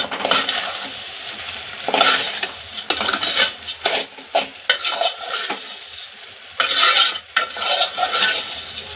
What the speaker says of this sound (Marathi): आता आपण जो हा तांदूळ धुवून घेतला होता तो टाकून घेणार आहोत आणि तो 2 मिनिटं परतणार आहोत